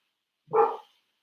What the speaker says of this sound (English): So I have this dog who's barking a lot right now.